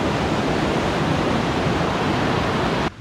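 The White River in September, still running at high water, roars steadily as a loud, dense, unbroken rush close by, alone with no voices, before cutting off abruptly near the end.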